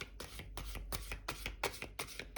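A tarot deck is shuffled by hand in quick, rhythmic bursts of riffling card snaps, about six in a row, close up and soft.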